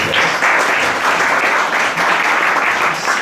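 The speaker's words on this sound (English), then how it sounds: "another round of applause" A crowd at an ISKCON temple gathering gives a loud, sustained round of applause, dense clapping rolling on evenly without any voices on top.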